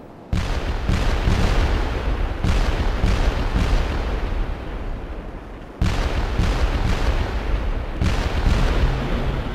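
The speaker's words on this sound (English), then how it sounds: "morning erupted into a firestorm of shells and rockets." Relentless rumbling barrage of heavy World War II artillery shelling Iwo Jima, dense booms blending into a continuous roar, briefly easing before surging loudly again.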